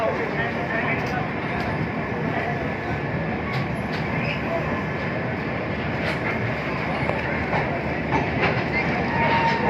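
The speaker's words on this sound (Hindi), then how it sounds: "प्लेटफॉर्म नंबर 1 पे अपनी गाड़ी आई है यहाँ पे।" Train arriving at platform 1 of Bhiwani Junction, a three-platform station in India's Bikaner division: a steady, loud rumble of rolling wagons with faint clickety-clack runs continuously, and a voice talks over it.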